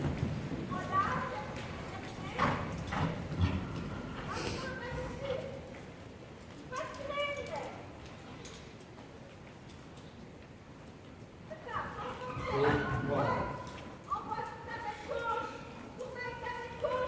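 Horse hooves beat out rhythmic footfalls in an arena during a riding lesson, bursts of clopping coming and going while an instructor talks over them.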